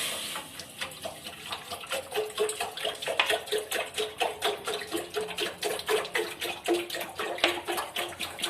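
Water poured into a heated pressure cooker on a gas stove, a steady gushing splash with fast rippling pulses that continues throughout, close and fairly loud.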